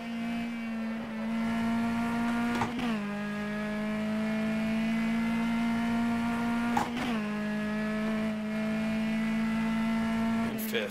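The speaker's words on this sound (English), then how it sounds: "On the brakes, down to third." A race car in the Copa Petrobras de Marcas racing game holds a steady engine drone, then brakes and downshifts, with sharp rev blips and gear-change jolts at three points.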